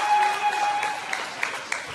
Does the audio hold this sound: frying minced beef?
no